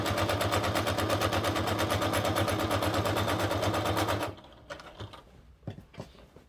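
A sewing machine stitches fabric around the neck of an adult bib, a steady, fast, loud mechanical rattle running for about four seconds before it stops, followed by a few scattered handling clicks and bumps.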